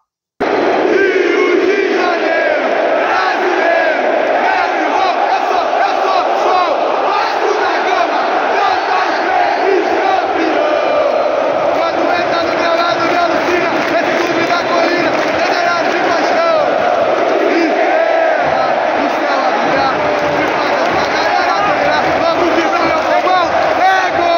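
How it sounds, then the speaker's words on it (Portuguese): Vasco supporters chant loudly and continuously at Maracanã stadium, a massive crowd roaring in unison with rhythmic swells and shouts filling the stadium for the whole stretch. "Olha o show que a torcida do Vasco deu ontem no Maracanã"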